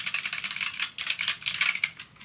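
Fast typing on an old computer keyboard: a quick, uneven stream of clicky keystrokes heard up close, with no other sounds.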